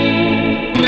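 Surf guitar drenched in spring reverb and echo, a sustained chorused tone ringing out loud and close for under a second before shifting abruptly, with no voices.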